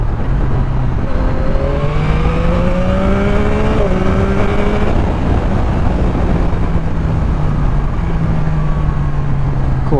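A Yamaha MT-09 gen 3 motorcycle pulls hard through its gears, the loud engine note climbing steadily, dipping briefly at each shift and rising again, with heavy wind rush throughout.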